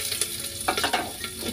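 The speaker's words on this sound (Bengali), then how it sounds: "দেখো এখানে একটু ডিম ভুজিয়া করে নিচ্ছি, দুটো ডিম দিয়ে টমেটো, পেঁয়াজ, কাঁচা লঙ্কা, ধনে পাতা সব কিছু দিয়ে" Egg bhujia of two eggs with tomato, onion, green chilli and coriander leaves sizzles in an oiled pan, a brief, close, hissing fry with a couple of quick stirring scrapes.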